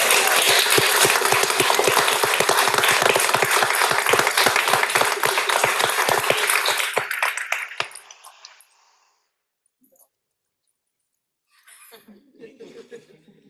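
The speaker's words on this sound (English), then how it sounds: "Let's give him a huge round of applause." Audience applause at a guide dog school graduation, loud and dense for about eight seconds before fading out, followed by a short silence and then faint murmuring near the end.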